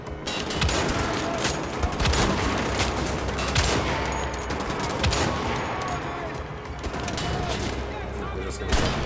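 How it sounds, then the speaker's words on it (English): Dense, continuous gunfire and grenade explosions in the shooter game Wolfenstein: The Old Blood, a busy battle of overlapping bursts and booms throughout, with some speech mixed in. "Super tired of these guys spamming fucking nades."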